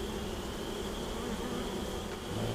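Dense, steady buzzing of many honey bees inside a hive, a continuous close drone with no pauses.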